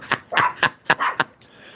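Several dogs bark at close range indoors in a quick series of about six sharp barks, with short pauses between them.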